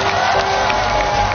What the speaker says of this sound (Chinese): 我们把热情的掌声送给他们